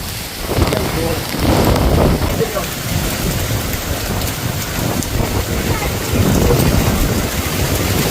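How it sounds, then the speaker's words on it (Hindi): Heavy rain pours down in a dense, steady roar, with rumbling swells that suggest thunder, and a voice is faintly audible beneath it. "इतनी तेज बारिश"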